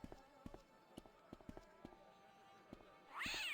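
A cat meows in the Broken Sword: Shadow of the Templars Director's Cut game, a short rising wail near the end following a series of sparse taps and footstep-like thuds.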